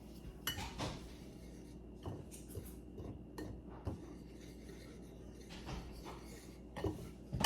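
Metal spoon scraping and clinking around a bowl as a garlic mixture is stirred, with steady rubbing strokes and occasional sharper clinks, close and fairly quiet, no talk.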